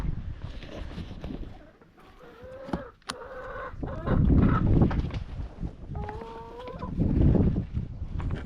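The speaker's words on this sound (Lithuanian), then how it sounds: "Vištelės, eisim namo" Backyard hens cluck and squawk nearby in short, repeated bursts, some loud and drawn out, while a person speaks softly between the calls.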